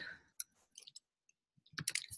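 Clicky keystrokes from someone typing on a computer keyboard, arriving in short uneven bursts with pauses between them, close and fairly quiet, with no one speaking.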